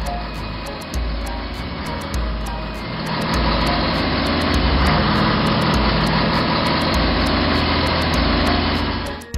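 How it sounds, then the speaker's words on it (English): A crane engine runs with a steady, loud mechanical rumble that grows slightly heavier and fuller midway, holding close and continuous throughout. "Crane."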